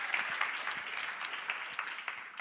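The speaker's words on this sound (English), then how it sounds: "That deserves a round of applause." Audience applause follows a presentation at a talk on working with core beliefs, a steady crowd of clapping hands sustained for a couple of seconds, no voices over it.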